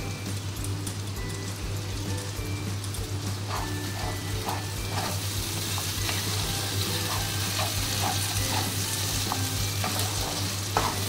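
Spice paste with cashew paste sautéing slowly in oil for chicken do pyaza, a continuous close sizzle and crackle with soft rhythmic stirring scrapes and no voices.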